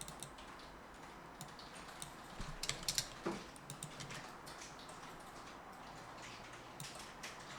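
Keys on a computer keyboard clatter in a quick, faint burst of typing, including a firmer keypress, in a quiet room with no talk.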